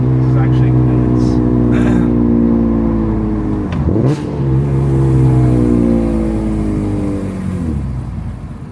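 BMW E46 M3 with Euro headers accelerating on the road, a loud raspy engine note climbing in pitch, dipping at a gear change, then rising again, with people talking over it inside the car.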